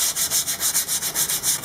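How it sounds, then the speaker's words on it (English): Skateboard grip tape edges being rubbed down by hand, a steady scratchy rasping in quick repeated strokes, close and fairly loud, with no talk. "you want to take your extra grip tape from the edges and you want to rub down the sides"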